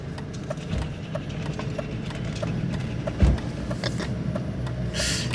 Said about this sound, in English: Are we ready for the welder diff sounds?